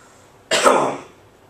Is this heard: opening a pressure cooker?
no